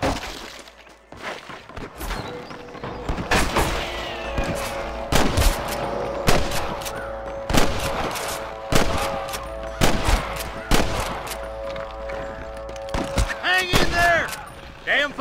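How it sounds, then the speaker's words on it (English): Gunfire in the video game Red Dead Redemption, a rapid string of sharp, loud shots with overlapping bursts and some breaking noises, nearby and dense throughout. "I can hear more gunshots."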